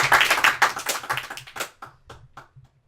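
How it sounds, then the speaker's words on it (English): A studio audience applauds guest host Joe Gallagher: a loud burst of clapping that thins into a few scattered, fading claps over about three seconds. "No longer hold your applause for Joe Gallagher"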